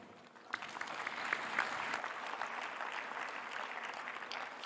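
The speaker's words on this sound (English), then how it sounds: "Strong applause there for Minister Vatini Rayalu, Agriculture and Waterways in Fiji" Strong, sustained applause from a conference audience at COP28 in Dubai's Expo City for Fiji's Minister of Agriculture and Waterways, a dense steady wash of clapping that swells after a brief quiet start and holds to the end.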